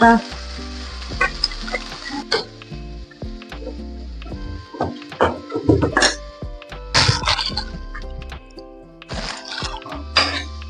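Fenugreek greens, potato, garlic, turmeric and masala sizzle and sauté in a pan, with loud, irregular bursts of stirring and frying set against quieter moments.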